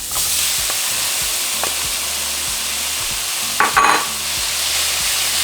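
Tomatoes hitting a hot frying pan for chimichangas and being stirred: a constant loud sizzle broken by a few spatula scrapes and a sharper clatter near the end, with no talking.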